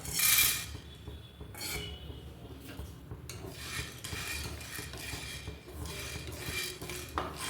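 Whole black peppercorns dry-roasting in a frying pan, stirred with a utensil that scrapes and rasps against the metal in a continuous rustle, with a few sharper scrapes near and no voices.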